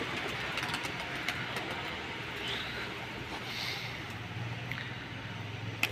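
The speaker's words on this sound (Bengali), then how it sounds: "আমি ছেড়ে দিয়েছি লাল পায়রাগুলো, দেখতে পাচ্ছ গাইস সব ওড়ার জন্য তৈরি হয়ে গেছে" A flock of red pigeons is released and readied for flight, with a steady, close rustling wash and a few faint coos and soft flutters throughout.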